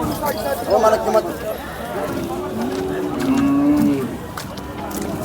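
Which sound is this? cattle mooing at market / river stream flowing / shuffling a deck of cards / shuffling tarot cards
cattle mooing at market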